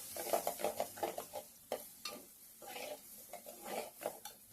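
Cauliflower coated with turmeric and red chilli powder being stirred in a pan, a series of quiet, close spatula scrapes and soft clatters against the metal with a faint sizzle beneath.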